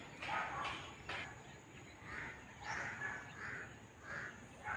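A crow caws repeatedly at a steady pace over a constant hiss of background noise, sounding moderately distant.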